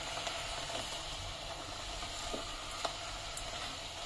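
Spring onions frying in a steel kadai for a chutney, giving a steady close sizzle with a soft hiss and occasional faint pops throughout.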